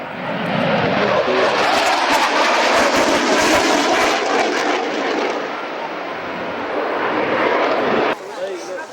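A military jet roars loudly past at the Biggin Hill Air Fair in 1999, a sustained broad engine rush that swells and then cuts away, while a commentator talks over it.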